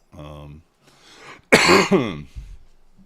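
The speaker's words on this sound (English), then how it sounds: "I mean to cough in your ear" A single sharp, loud cough close to the microphone, set between brief bits of speech.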